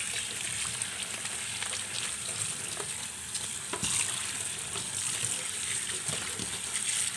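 Vegetables are rinsed under running tap water in a home kitchen: a steady hiss and splash of water with small clicks and knocks of handling, moderately close and without speech.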